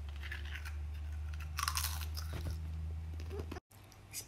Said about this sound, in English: can you stop eating like that?